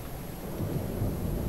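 Thunder from a lightning strike rumbles low and steady in the video game Dark Souls 2, a dense, continuous roll with no voices.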